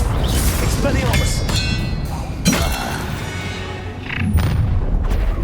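Spell combat in the Hogwarts Legacy video game: a rushing magical blast with sharp booming impacts and crackling bursts, loud and busy, with in-game voices over it.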